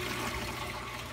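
Steady broadband rush of water spilling from two overflows into a small, roughly 15-gallon saltwater aquarium sump, continuous and close with no talking.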